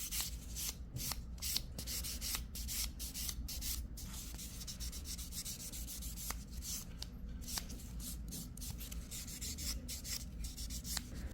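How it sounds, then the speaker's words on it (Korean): Extended nails are filed and sanded with a nail file, giving a steady, close scratchy rubbing that runs in quick repeated strokes throughout without a break. "여기서 이제 샌딩 작업 해주시면 돼요"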